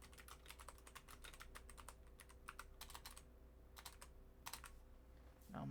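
Fast, crisp typing on a computer keyboard, bursts of close key clicks with short pauses between them, quiet against a low background hum.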